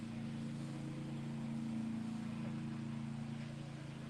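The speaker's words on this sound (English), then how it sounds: "somebody's going down the road in a lawnmower." A ride-on lawnmower travels down a road outdoors, its steady engine drone holding a constant pitch at moderate distance and continuing alone without voices.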